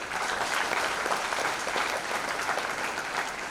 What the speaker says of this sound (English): Now for the students, you should clap on this.